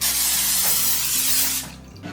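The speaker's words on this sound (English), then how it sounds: "Then I'm gonna spray it with a little 0-calorie cooking spray." A steady aerosol hiss of zero-calorie cooking spray onto a baking dish runs continuously for about a second and a half, then cuts off abruptly.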